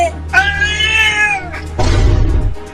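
A cartoon cat gives a long, loud, drawn-out meow, followed by a harsh hissing, spitting snarl, both close and prominent over a low background hum.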